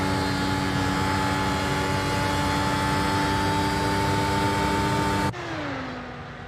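An F1 car in a racing video game revs hard in a sustained high whine, then the pitch abruptly drops and falls away as the engine note eases.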